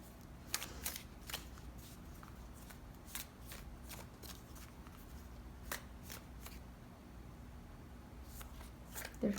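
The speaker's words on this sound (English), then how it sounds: "Shuffle and pull them as they tell me to." A deck of cards is shuffled repeatedly at close range, with crisp riffling bursts and snaps coming in irregular clusters over a faint steady hum.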